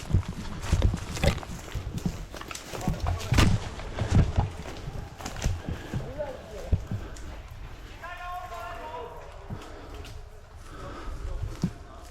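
Sharp, repeated gunfire bursts from a video game crack over busy game noise during a large battle on the Marsh map, with people talking throughout.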